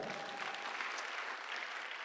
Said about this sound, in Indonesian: Wah, tepuk tangan dulu untuk Anda.